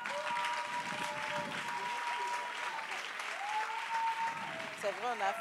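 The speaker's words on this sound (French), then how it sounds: "On acclame le Seigneur." A church congregation claps steadily together, a dense continuous wash of applause with voices singing or calling out over it throughout.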